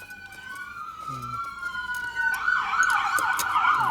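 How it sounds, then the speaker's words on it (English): An ambulance siren wails from a distance, its pitch sweeping up and down, then grows louder and more urgent partway through. "There's another one, the ambulance."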